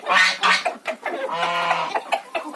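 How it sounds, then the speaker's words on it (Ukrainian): A lone domestic goose among farm hens, giving a close series of loud, nasal honking calls in quick uneven bursts, one drawn-out call in the middle. "Тепер починає голос подавати наша гусочка"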